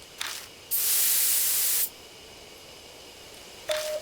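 Aerosol insect spray fired at bugs in the horror game Death Mark: one loud, steady hiss about a second long, with short fainter bursts before and after it.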